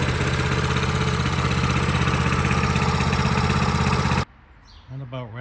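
A Honda CT200 trail bike engine idles with a steady, close, buzzing low-frequency putter that stops abruptly near the end, after which a voice is briefly heard.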